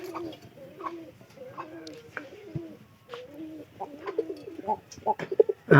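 Pigeons coo repeatedly in low, throaty calls at close range near their cage, with overlapping birds and some handling noise building toward the end.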